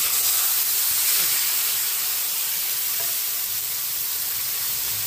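Chicken pieces frying in a pan with butter, garlic and onion, giving a steady, loud, broadband sizzle and hiss that runs unbroken throughout with no voices.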